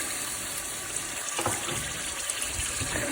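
Water pouring into tinda gosht curry in a cooking pot, a steady close splashing gush that lasts throughout with small bursts along the way, and no talking.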